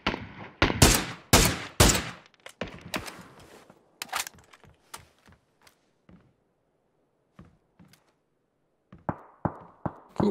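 Loud bursts of automatic gunfire in PUBG, a rapid cluster of shots up front, then scattered single cracks trailing off and a few more reports returning at the end, no talking.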